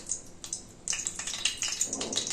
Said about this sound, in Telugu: ఇప్పుడు తాలింపు వేసుకుంటానండి